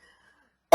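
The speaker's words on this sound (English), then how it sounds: "I have to cough." A single short cough comes in sharply at the very end, after near silence, close to the microphone and fairly loud.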